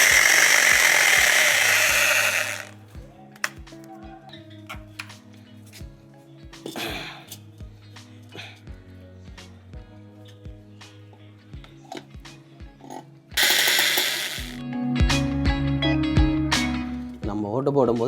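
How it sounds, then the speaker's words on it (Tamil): A power drill bores a hole through a clay pot, with loud whining bursts of drilling at the start and end and scattered knocks between, under a speaking voice. "இதை வச்சு பானையில் ஓட்டை போட முடியுமா அப்படின்னு சொல்லிட்டு தான் ட்ரை பண்ண போகிறேன்"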